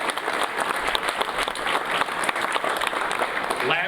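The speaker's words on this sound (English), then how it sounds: "Round of applause." Steady applause fills a ribbon-cutting ceremony for the Chisago Lakes WildCat Community Center, a dense, continuous clatter of many hands clapping at even loudness for about four seconds.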